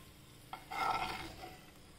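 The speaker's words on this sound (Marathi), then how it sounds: "काजू आणि बदाम आपण तुपामध्ये तळून घेतोय." Cashews and almonds frying in ghee, a short soft burst of sizzling with a brief stir, quiet and close, fading after about a second.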